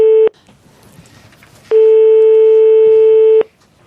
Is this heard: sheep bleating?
no